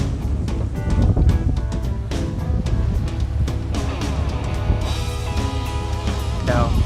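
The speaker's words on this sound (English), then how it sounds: "Now, it is a little gusty, so you just got to kind of watch it." Gusty wind buffets the microphone on a dock while a 116 ft yacht is undocked, with steady rushing noise, water sloshing and scattered knocks and clunks from the boat, all close and loud.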